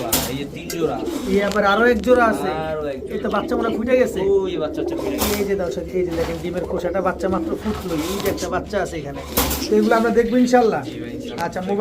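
Several pigeons cooing close by in repeated soft, throaty phrases, with people talking over and between the calls.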